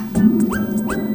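Dog in a Lego Friends toy play scene, giving a few short yips and whimpers with rising pitch over a steady low hum, close and moderately loud.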